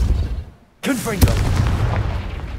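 A Confringo fire spell bursts in Hogwarts Legacy with a sudden loud blast after a brief hush, then a crackling, rumbling tail while a voice speaks over it.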